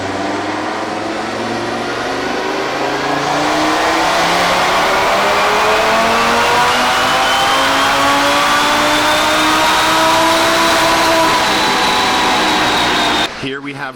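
A tuned, turbocharged TT car engine revs loudly and steadily up through its range on a dyno, its pitch climbing for about thirteen seconds before cutting off abruptly.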